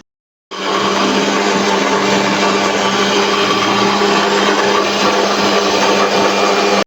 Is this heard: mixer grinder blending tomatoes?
yes